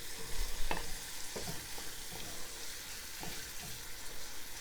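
Onion and garlic fry in a pan, giving a continuous crackling sizzle while a utensil scrapes and stirs through them in short, irregular strokes, close and steady throughout.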